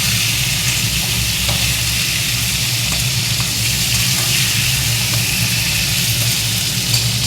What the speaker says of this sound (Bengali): তার জন্য আগে মাছগুলোকে আমার ভেজে নিতে হবে